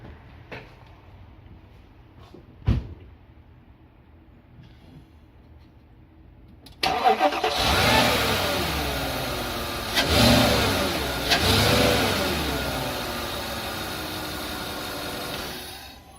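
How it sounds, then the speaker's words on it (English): After a quiet stretch with a couple of thumps, a 2008 Porsche Cayenne Turbo's 4.8L twin-turbo V8 starts and revs up loudly, rising and falling in a few strong surges, close by. "And listen to the sound of the V8."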